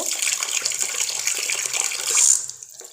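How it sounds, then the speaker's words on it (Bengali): Aromatic rice is rinsed in water by hand in a home kitchen for date-jaggery rice pudding, a close, continuous splashing and sloshing that swells briefly near the end before fading, with no talking. "চাল ভালোভাবে ধুয়ে নেব"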